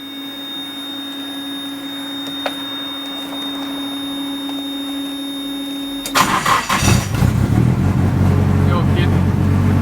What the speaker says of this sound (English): Let's see if this car starts.